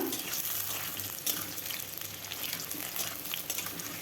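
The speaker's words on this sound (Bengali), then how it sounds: "আলুগুলো আমি কিছুক্ষণ সময় ধরে ভেজে নেব যতক্ষণ লাল লাল না হবে ততক্ষণ আমি নামাবো না" Cut potatoes frying in hot oil, a continuous dense crackling sizzle close by with small irregular pops, steady and unbroken with no talk.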